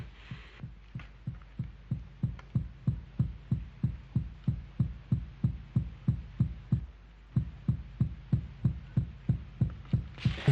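An oppressive heartbeat sound effect in a horror film: a steady run of deep double-thump beats, loud and close, repeating evenly for about ten seconds with a faint hum between beats.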